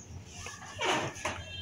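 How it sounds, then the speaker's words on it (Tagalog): Dogs give a couple of short, faint whimpering yips at a distance against low outdoor background noise. "Mga aso natin."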